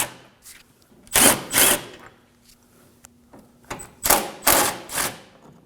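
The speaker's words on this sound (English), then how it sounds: "we're going to be removing these 4 10mm bolts" A tool removes 10mm bolts from the front of a 2014-2020 Acura MDX in two clusters of sharp whirring bursts, with quiet gaps and faint handling noise in between.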